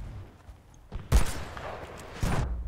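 Rockets and gunfire in Battlefield Bad Company 2, heard as two loud broadband blasts about a second apart, the second longer and rumbling, over a quieter low background.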